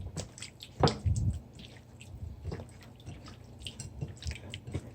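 Hands rub Himalayan salt seasoning into raw shrimp, making faint, wet squishing and dripping sounds at close range, with no voices.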